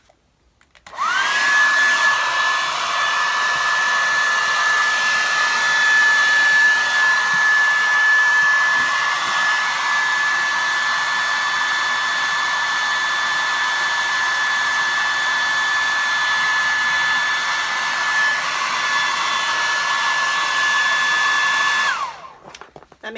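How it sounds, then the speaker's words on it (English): A hair dryer blows hot air to soften vinyl upholstery on RV dinette cushions, switching on and running as a loud, steady, close whooshing drone with a constant whine for about twenty seconds before cutting off. "is my hairdryer. It will soften up the vinyl so it's more pliable and will go around the corners smoother."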